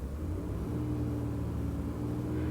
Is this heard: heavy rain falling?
no